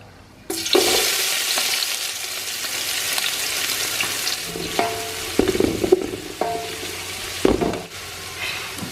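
Chopped onions, four of them, hit hot oil with cardamom for Ambur biryani and sizzle loudly and steadily, with scraping stirs and clatters of a spoon against the pan.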